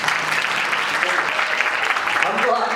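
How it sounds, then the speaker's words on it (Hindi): An audience applauding at a Shrimad Bhagwat katha religious discourse, with a steady burst of clapping from a crowd over nearly three seconds, fairly loud and close. "एक बार ताली बजा दो।"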